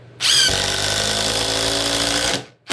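A Ridgid three-speed brushless impact driver on speed 3 with a 2 amp hour battery drives a thick fastener, a loud close continuous whir that turns to rapid hammering impacts for about two seconds and then stops.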